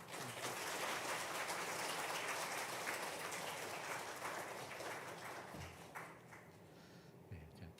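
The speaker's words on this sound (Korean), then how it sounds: "우리 따뜻한 박수로 맞으시면 감사하겠습니다." Warm applause from a church congregation welcoming a guest pastor at a worship service, dense and steady clapping that fills the room and slowly tapers off near the end.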